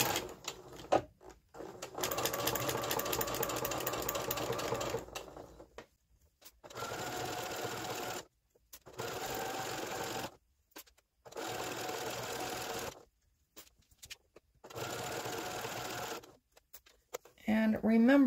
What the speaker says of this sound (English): So we'll go ahead and put in a seam here.